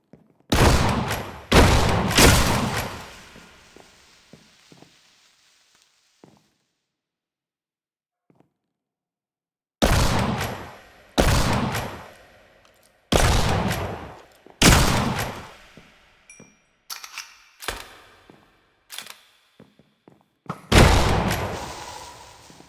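Bursts of loud, sharp explosions and blasts from Minecraft gameplay come in rapid clusters, with a quiet gap near the middle before more booms follow.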